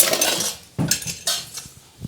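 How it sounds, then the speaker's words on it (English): Metal utensils scrape and clink against a pot and bowl while cooked meat for a gluten-free Bolognese is moved over, several close, bright knocks and rattles in quick succession. "I want to put the meat into a bowl"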